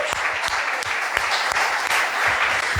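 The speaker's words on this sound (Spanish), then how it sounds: "Dale un aplauso al Señor, por favor." Applause from a church congregation during a worship service, a dense steady patter of many hands filling the room, loud and sustained with a few sharper claps standing out.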